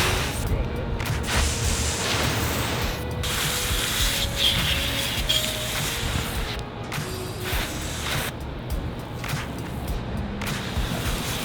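A garden hose sprays water in a paint shop, a loud continuous hiss with scraping and shifting bursts as the stream moves around, steady throughout.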